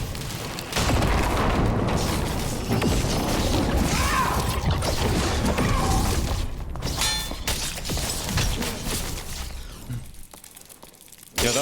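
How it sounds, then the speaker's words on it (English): A direct-hit elemental bolt spell impacting in Dark and Darker, a sorcerer's cast, amid a dense, loud stretch of game combat with booming, crashing impacts and clattering mechanisms over several seconds. "Yeah, that was a direct hit elemental bolt."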